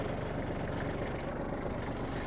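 A Kubota GL300 tractor in good condition runs with a steady, moderately quiet engine drone and a low rumble, with no change across the short stretch.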